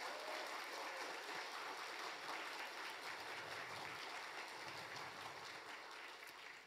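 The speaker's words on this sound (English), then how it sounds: "Let's give a big round of applause." An audience claps at a church gathering, a steady, dense wash of applause that holds evenly throughout, sounding somewhat distant and soft.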